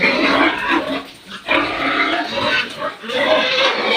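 Hungry farm pigs being fed grunt and squeal continuously and loudly at close range while eating, a dense, rough chorus with brief dips.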